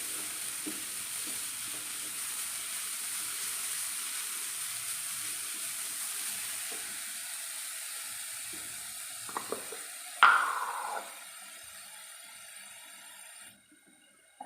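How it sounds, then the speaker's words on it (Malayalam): Ingredients for a Kerala-style Ramzan pudding sauté in a pan over a high flame, a steady close sizzle with scraping stirs and a couple of sharp utensil clacks near the end before the sound cuts off. "ഹൈ ഫ്ലെയിമിൽ തന്നെ ഇട്ട് വേണം ഇത് വഴറ്റി കൊടുക്കാൻ"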